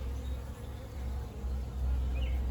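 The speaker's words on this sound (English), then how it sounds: "first package of bees hived up and ready to go" Honey bees from a newly hived package buzz in a dense, continuous hum close by, the drone swelling slightly toward the end, with no voices.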